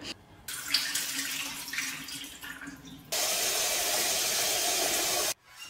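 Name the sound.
water running to drain and refill soaked chickpeas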